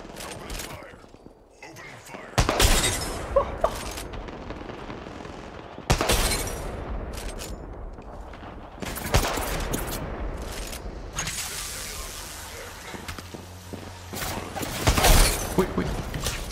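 Apex Legends gunfire crackles in sharp volleys and bursts, loud and near, interleaved with mechanical in-game clatter while players talk excitedly over it.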